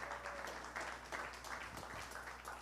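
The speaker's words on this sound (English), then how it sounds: "Give her another big round of applause" At a Caribbean media awards ceremony, the crowd gives faint, distant applause in a soft, continuous patter of many hands with slight swells, heard at low volume.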